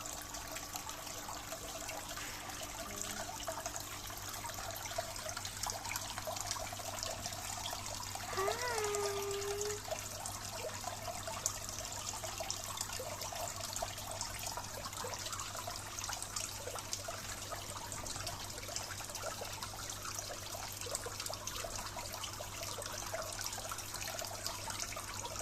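Water trickling and dripping in an outdoor aquarium in a village, a steady soft flow that runs the whole time with a brief rising gurgle partway through.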